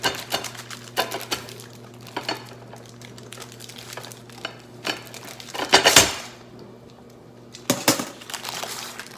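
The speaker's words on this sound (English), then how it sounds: "Sorry about my dishwasher." Dishwasher running in a home kitchen with dishes clattering, scattered clinks and knocks over a steady low hum, some louder bursts of rattling.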